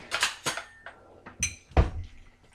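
A metal fork clinks and scrapes against a dish while stirring mac and cheese: a handful of sharp, separate taps with quiet gaps between them, close by.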